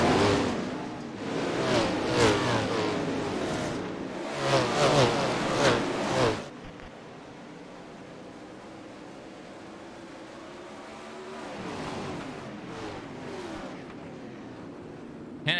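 A pack of 410 sprint cars roars away at the green flag on a dirt oval in the iRacing sim, loud surging engine revs pulsing for several seconds before dropping to a distant drone.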